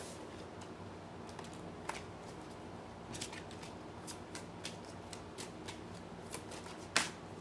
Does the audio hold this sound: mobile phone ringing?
no